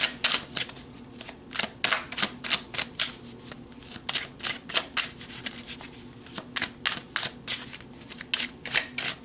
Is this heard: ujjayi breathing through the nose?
no